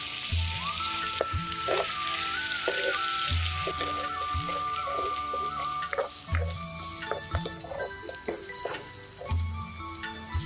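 Cumin seeds frying in hot coconut oil for a restaurant-style chicken curry give a dense, continuous crackling sizzle throughout, with light spoon clicks and faint tonal background music underneath.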